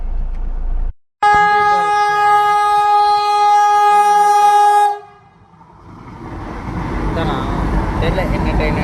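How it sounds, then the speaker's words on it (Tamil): A loud, sustained train horn blares for several seconds, then the rumbling, clattering noise of a train rolling past continues up close. "தெரியல என்ன ட்ரெயின், எனக்கு பேர் தெரில."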